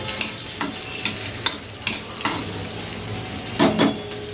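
Cumin seeds fry in oil in a pan while a spoon stirs them, giving a soft background sizzle punctuated by about ten sharp, evenly spaced scraping clicks close by.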